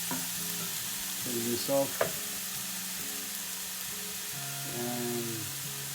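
A burger frying in a pan sizzles with a soft, steady hiss while a utensil scrapes and stirs in brief bursts. A short spoken remark cuts in partway through.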